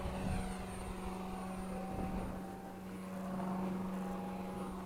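An FMS 70mm F/A-18 RC model jet spools up and takes off, its steady high-pitched ducted-fan whine holding loud and even throughout, with a slight swell toward the end.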